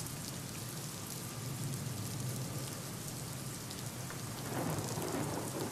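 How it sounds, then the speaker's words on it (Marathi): Heavy overnight rain pours steadily in Mumbai, a dense continuous hiss of drops on surfaces with a low rumble beneath, swelling slightly louder near the end, with no voices. "तर मुंबईमध्ये रात्रीपासून जोरदार पाऊस सुरू आहे"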